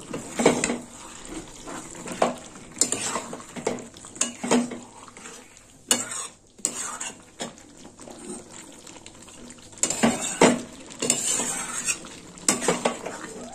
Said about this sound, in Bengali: দিয়ে দিলাম 1 চামচ ঘি, আর একটু নেড়ে চেড়ে নেবো।